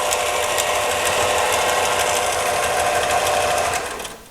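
A Central Machinery 6 in disc sander grinds a workpiece with a loud, steady rasping whir that holds evenly, then fades as the work lifts away at the end.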